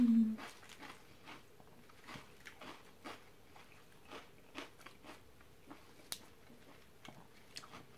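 Crisp crunching bites of store-bought sweet pepper, a run of short, quiet, irregular crunches spread over several seconds, fairly close with no talking.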